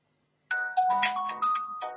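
A phone ringtone for an incoming call plays a bright, chiming electronic melody that starts abruptly and runs for over a second, loud and close with no talking over it.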